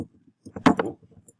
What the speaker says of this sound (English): Keyboard's falling off.